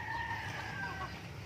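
Free-range native chickens in a breeding pen cluck with a drawn-out crowing call in a quiet farmyard, fairly faint and brief, with no talking.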